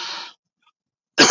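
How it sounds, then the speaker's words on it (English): Two harsh, close coughs separated by a brief silence, the second one louder and sharper. "Sorry, I'm gonna cough again."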